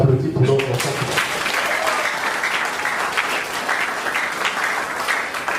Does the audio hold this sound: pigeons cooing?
no